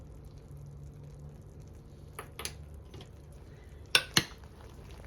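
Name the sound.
stirring apple butter in a crock pot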